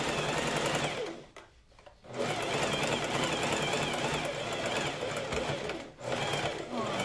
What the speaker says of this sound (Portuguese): Costura a primeira manga